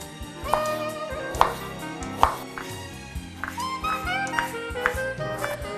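A knife chops an onion into small cubes on a board in a few sharp, uneven strikes, close and clear, with faint kitchen background noise.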